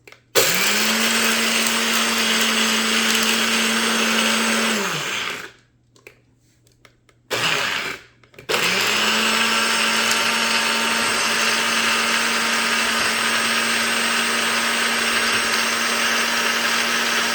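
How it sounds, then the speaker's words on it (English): A NutriBullet blender grinding eggshells whirs loudly and steadily, cuts out briefly, pulses once, then roars again at full speed for a long stretch. "show you that you can do it in your NutriBullet"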